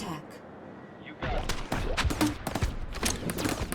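A small ship cannon in the From Glory To Goo wave defense game fires in a rapid string of loud, sharp blasts after a quiet opening, with a voice talking over the gunfire.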